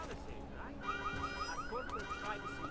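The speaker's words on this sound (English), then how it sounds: "can't jump up on top of a car without triggering an alarm" A car alarm goes off in Deus Ex: Mankind Divided after a heavy augmented character jumps onto a car, sounding a rapid repeating warbling electronic chirp over low game ambience.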